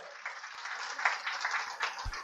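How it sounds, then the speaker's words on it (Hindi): Steady applause from a crowd at a train launch ceremony, a continuous wash of clapping at moderate level with no talking over it. "जोरदार तालियों से उनका अभिनंदन किया जाए"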